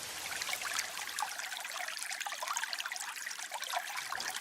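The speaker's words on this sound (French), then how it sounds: "La pluie s'intensifie et vide complètement la masse nuageuse." Heavy rain pours down steadily, a dense hiss of water with trickling, streaming runoff, fairly loud and continuous with no voices.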